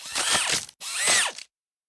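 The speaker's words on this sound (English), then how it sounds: "Using a drill, she seals the 4 of them in the attic" Two short bursts of a whirring cartoon power drill, each rising then falling in pitch as the attic is sealed shut, close and clear, separated by a brief gap, then silence.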